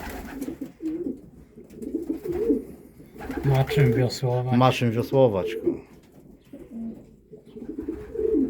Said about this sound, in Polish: Piękne gołębie.